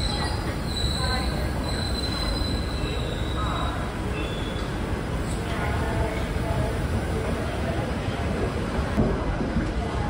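An Intercity Express train pulls out of Jhansi railway station, its wheels grinding and squealing on the rails in a loud steady rumble heard from on board, with high metallic screeches above it.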